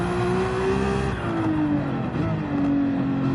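A race car engine drones loud and steady in a sim racing game, its pitch easing down slightly and then holding as the car rounds a corner, with faint tire noise underneath.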